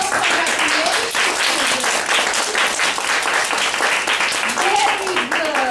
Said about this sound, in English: So give an applause, please give an applause to your classmates.